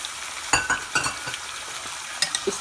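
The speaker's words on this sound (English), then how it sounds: "Stir it a little bit." Chicken frying in a pan with garlic and onions, stirred now and then. A soft steady sizzle runs underneath, with a few sharp scrapes and clinks of the utensil against the pan at irregular moments, close by and without talk.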